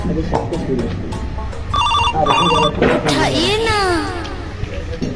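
A phone rings in short repeated electronic tones while people talk nearby.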